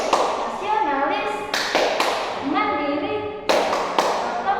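A class of children claps along to a rhythmic PPK chant, bursts of crisp clapping alternating with sung, chanted words from the group.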